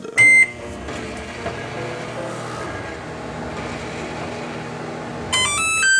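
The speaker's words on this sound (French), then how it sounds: "notre sonnerie de four micro-ondes fatigante" A microwave oven hums steadily while melting colored chocolate, with a short beep at the start and a series of electronic beeps near the end.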